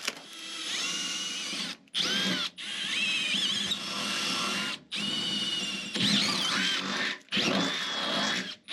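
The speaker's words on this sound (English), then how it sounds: "let's go ahead and drill this first hole for mounting the seat bracket" Power drill boring a 1/8 inch pilot hole for a seat bracket in a Chevelle floor during a roll cage build, in several loud whining bursts separated by short pauses, close up.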